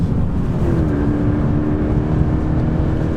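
A 2013 Toyota GT86 sports car engine drones steadily with a low exhaust rumble, close and loud, holding a constant note without speech.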